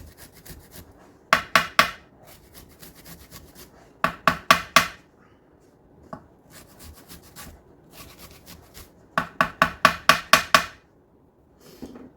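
Fresh ginger rasped across a microplane grater in three quick bursts of sharp scraping strokes, close and fairly loud, with quiet pauses between them.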